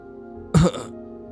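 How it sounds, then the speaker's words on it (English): A single short, throaty cough burst from a video game character coughing up blood, close and clear, over a faint steady background hum. "She's coughing up blood."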